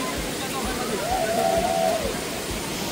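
Small waterfalls tumble beside the stone temple steps at Marleshwar, a steady rushing splash of water filling the background while a voice speaks over it for a moment.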